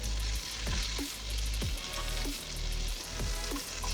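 Tandoori chicken pieces fry in a hot pan on the stove, producing a steady close sizzle broken by several distinct scraping strokes as the pieces are turned and stirred. No voices are heard.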